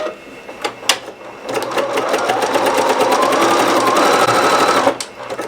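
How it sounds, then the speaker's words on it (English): Sewing machine running a zigzag stitch close to the edge of a fabric circle, a steady rapid mechanical chatter lasting about three and a half seconds after a few short clicks and handling noises. "place your circle under your presser foot and you're going to zigzag very close to the edge"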